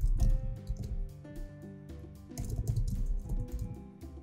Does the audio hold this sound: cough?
no